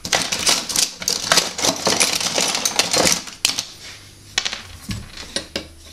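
A hammer drives a punch against a Honda rear wheel in quick, sharp metallic taps and clinks, clustered in bursts with short pauses, close and fairly loud.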